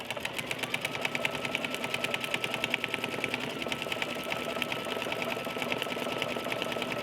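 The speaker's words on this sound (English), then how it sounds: "First, it's gonna stitch the mouth and the nose," Embroidery sewing machine stitching the mouth and nose onto a baby bear lovey: a steady, rapid, mechanical chatter of needle strokes, continuous and close throughout.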